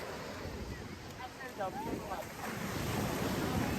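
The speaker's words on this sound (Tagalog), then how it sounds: "Kung saan tinatangay na kami ng alon." Ocean surf washes and roars close by with wind buffeting the microphone; faint voices and brief whistling tones rise briefly above the waves.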